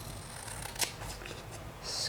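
Scissors snip a small square of homemade vellum paper. A few quiet, close cuts and paper rustles come in a short burst, and one crisp snip stands out.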